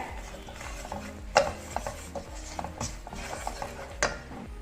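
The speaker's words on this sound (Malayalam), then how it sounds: "ഇതെല്ലാം ഒന്ന് ഈ ചൂട് എണ്ണയിൽ കിടന്ന് തന്നെ ഒന്ന് മൂത്ത് വന്നാൽ മതി" Spices for beef pickle being stirred in hot oil in a pan, with a soft continuous sizzle and occasional sharp clinks and scrapes of a spoon against metal.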